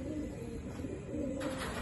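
Sialkoti pigeons coo close by in a loft, low throaty rolling calls repeating steadily over a faint background hum.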